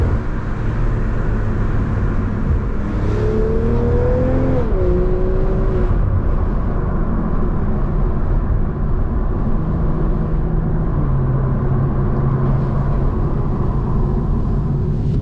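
A BMW M340i fitted with downpipes and an aftermarket exhaust drives along, its engine holding a steady loud drone inside the cabin and a couple of tones rising and shifting as the revs change.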